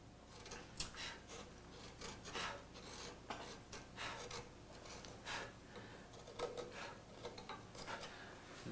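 A hand tool planes down a carved cottonwood bark piece, shaving the face's mustache in a run of short, dry rasping strokes, close and fairly soft, with no talking.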